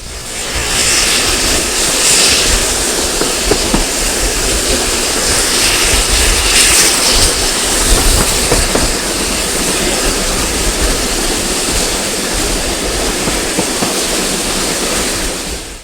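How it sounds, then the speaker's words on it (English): A loud, steady mechanical roar of heavy engines labouring continuously as a train with two locomotives in front and one behind climbs a steep grade on the West Somerset Railway, broadband and sustained with no pauses or voices. "With 2 locomotives up front and 1 at the back, this train had no issues with climbing the grade."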